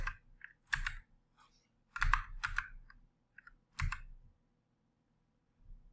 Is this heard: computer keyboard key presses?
yes